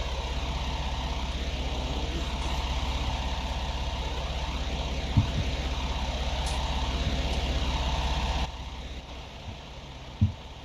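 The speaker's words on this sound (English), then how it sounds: "I think I forgot to turn that tractor off." A tractor engine idles in Farming Simulator 19, a steady low diesel rumble that runs throughout and drops slightly in level near the end, with a couple of faint clunks and no talk.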